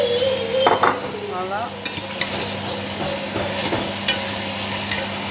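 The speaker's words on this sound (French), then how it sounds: "La viande sautée au chou." Meat and cabbage sauté in a pan with tomatoes, pepper, onions and garlic, crackling steadily as a utensil stirs and scrapes in irregular strokes, while a voice speaks briefly near the start.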